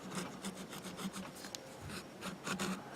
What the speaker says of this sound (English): I'm very carefully going to try and clean the grooves up